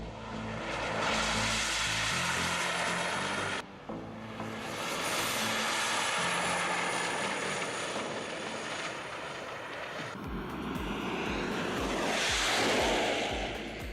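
A Toyota MR2 converted into a jet car powered by twin helicopter turbine engines, roaring with a loud continuous turbine whine that swells and dips, with a surge of rushing exhaust noise near the end.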